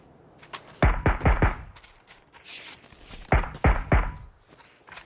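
Gunfire in the video game PUBG: two clusters of sharp, punchy shots, a quick run of four near the start and another tight burst of three or four later, with quieter ambient game noise in between.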